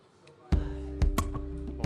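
Drum loop in a track processed with a Sonnox Transient Modulator: a brief quiet lead-in, then punchy kick and snare hits with sharp attacks land close and loud in a quick rhythmic pattern.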